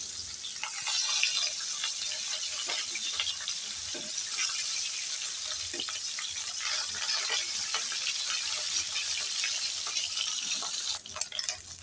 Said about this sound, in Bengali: আবারও বাকি মাছগুলোকে ভেজে নেব